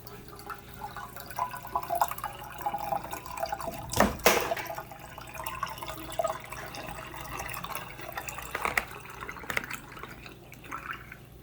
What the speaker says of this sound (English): And there's the gurgling. It's already starting.